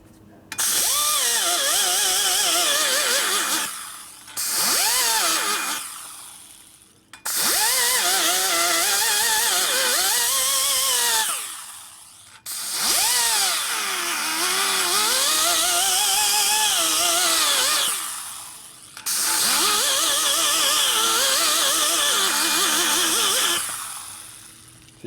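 An angle grinder cuts into a Harley-Davidson 1992 80ci Evo engine case, whining loud and close in several long passes separated by brief pauses, its pitch sagging and rising under load.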